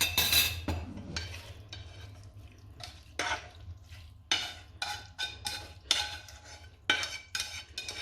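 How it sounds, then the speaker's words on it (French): Minced meat stirred into moussaka vegetables with a spoon, a series of close scraping and clinking strokes against the pot in irregular bursts with short pauses, no talk. "je vais y ajouter ma viande hachée et tout mélanger ensemble"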